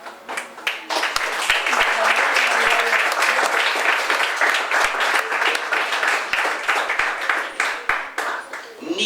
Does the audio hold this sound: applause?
yes